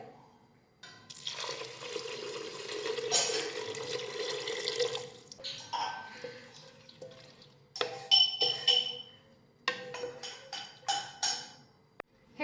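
Water is poured into a cooking pot in a long splashing stream, then in several shorter bursts with gurgles and drips between. Two and a half bowls of water go in, for spicy aloo bhat.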